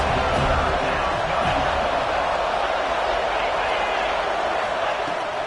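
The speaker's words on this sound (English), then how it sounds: "Big third down as the crowd gets behind this defense." Football stadium crowd in a video game on a big third down, a broad, steady, loud roar of cheering voices that holds evenly without pause, with commentary talk woven in.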